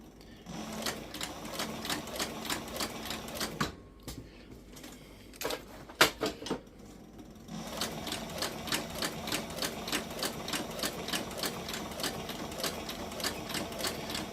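A sewing machine stitches along a groove in a tooled leather rifle sling, running in close, steady bursts with a short pause partway before the rapid stitching resumes.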